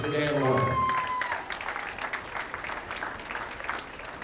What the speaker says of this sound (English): So please, give a round of applause for Mr. Dan Warner.